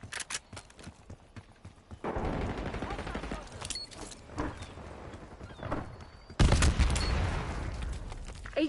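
Gunfire in the video game Black Ops 6, bursts of rapid shots and dense crackling volleys with quieter gaps between, mixed with game ambience and effects.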